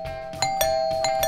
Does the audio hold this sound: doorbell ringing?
yes